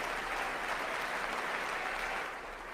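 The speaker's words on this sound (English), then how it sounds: "John Fetterman's applauding" A large audience at the State of the Union address claps steadily, a dense, sustained wash of applause heard from a distance, tapering slightly toward the end.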